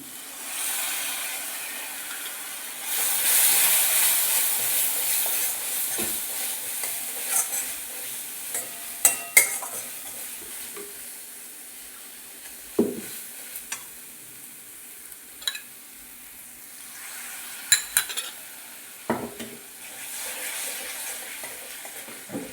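Ginger-garlic paste with turmeric and chili powder mixed in water is stir-fried for banana chicken, a continuous sizzling hiss punctuated by scattered spatula taps and scrapes against the pan.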